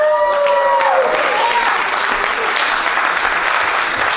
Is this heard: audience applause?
yes